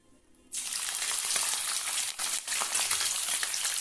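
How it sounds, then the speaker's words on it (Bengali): Bombay duck (lote) fish pieces dropped into hot oil, a quiet start then an abrupt loud burst of crackling sizzle that carries on densely with a brief dip, close by. "গরম হয়ে গেছে, এবার মাছগুলো দিয়ে দেবো।"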